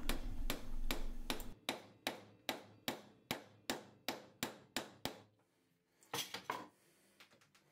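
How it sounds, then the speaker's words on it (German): Hammer blows drive 8 mm wooden dowels into the glued parts of a wooden workshop stool, about a dozen sharp, evenly spaced knocks close by, followed by a short pause and a few quicker taps. "Alle Teile werden verleimt und zusätzlich noch mit 8 mm Dübeln verstiftet."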